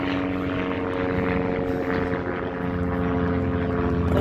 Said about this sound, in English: Now we got a helicopter flying around.